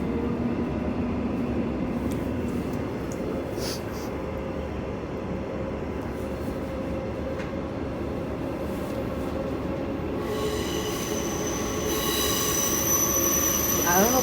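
A passenger train running between Airport Central and Aubin Grove rolls along steadily with a constant rumble, and high metallic wheel squeals rise toward the end, close and fairly loud.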